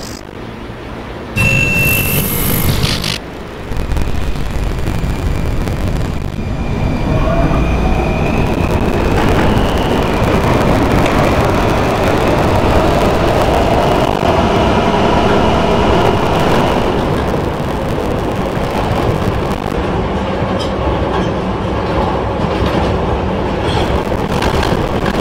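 A subway train in the Roblox game PTA pulls away after its doors close, with a brief loud chime and door thump at the start, then a long steady rolling rumble and clatter of the railcars, loud and close throughout.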